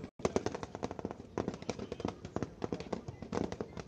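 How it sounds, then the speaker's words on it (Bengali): Rapid bursts of gunfire and sharp blasts from a Bangladesh Army winter military drill, with soldiers throwing grenades to clear trenches; dense, continuous cracking shots layered with louder bangs throughout. "সৈন্যরা গ্রেনেড নিক্ষেপ করছে।"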